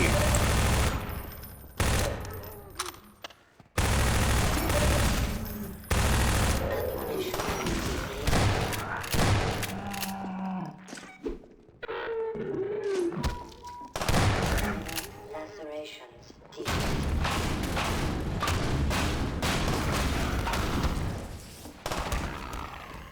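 Sustained SMG fire in Half-Life 2, with long rapid bursts of automatic gunshots broken by brief gaps and a few heavier thuds, loud and close, while a voice talks over parts of it.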